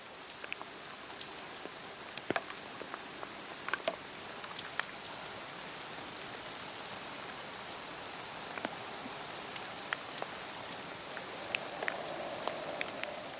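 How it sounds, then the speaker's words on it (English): Steady rain patters through a forest with wind, a dense wash of drops and scattered sharper drip ticks, fairly close and constant, with no voices. "The wind continues, as does the rain"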